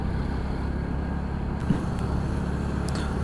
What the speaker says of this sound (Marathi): भरपूर ट्रॅफिक आहे,